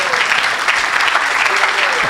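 A church congregation claps and cheers in praise of the Lord, a dense, loud burst of applause filling the whole moment.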